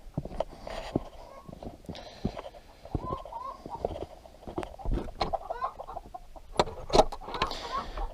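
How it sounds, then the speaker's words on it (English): Chickens cluck and murmur inside a chicken house, a busy close-up chorus of overlapping calls with scattered louder squawks. "Inside the chicken house here, are y'all busy?"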